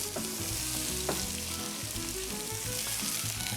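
Vegetables sauté gently in olive oil in a pan, with a continuous close sizzle and crackle and soft stirring scrapes, steady and moderately loud with no talking.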